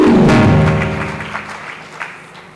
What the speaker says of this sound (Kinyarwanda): Mwikomera amashyi namwe.